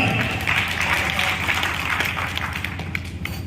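Audience applause at a Hindi comic poetry recital, a steady, sustained wash of clapping from a seated crowd that holds at an even level throughout, over a low background hum.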